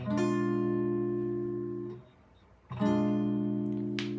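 Two strummed guitar chords, diminished seventh shapes, ring out one after another, each sustaining and fading, with a brief quiet gap between and a faint scrape at the end.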